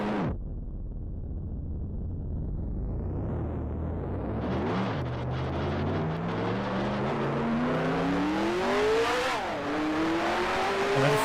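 Damaged race car in the Grand Prix Legends racing game, its engine note rising and falling through gear changes with a strained, uneven whine, loud and close with no talk over it.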